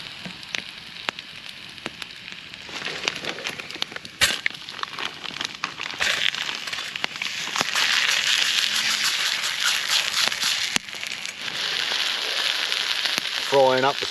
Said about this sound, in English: Frying up the storm on my Wild Camp International titanium plate.